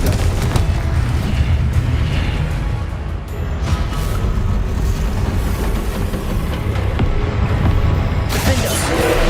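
The Confringo spell explodes in Hogwarts Legacy: loud, dense, continuous rumbling booms with a few sharper bursts, all within a thick wall of combat noise.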